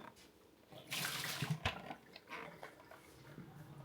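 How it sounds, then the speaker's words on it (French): Water poured out of a bowl into a sink, a short splashing gush and trickle, quiet and close, with no voices. "je vais pouvoir vider l'eau du bol"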